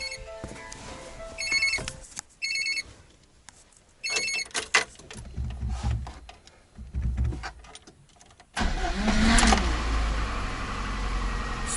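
A UAZ vehicle's engine, fitted with a new, larger battery, cranks in several short bursts, then catches and settles into a loud, steady idle rumble.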